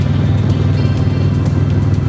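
Steady car engine and tyre drone from inside a vehicle on an empty rural road after rain, a continuous low rumble holding even throughout with no talk.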